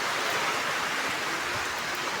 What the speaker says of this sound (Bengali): এই যে বৃষ্টি,